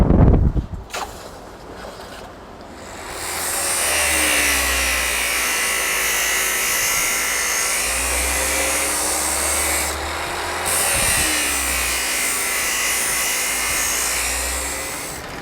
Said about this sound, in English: so we grind these shoes. We call it safing or checking the shoe